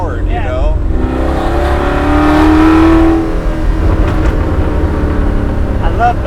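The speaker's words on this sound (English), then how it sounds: "Your exhaust tone on here is badass. I love the sound of your car, man." Revving of a 1966 Ford Mustang with a 347 stroker engine, loud and close, the exhaust tone swelling and falling with crackling pops, while someone talks over it.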